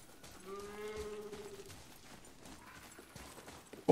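Soft rhythmic hoof clip-clops from a horse in the video game God of War, with a faint animal bleat early on and a sudden loud burst at the very end.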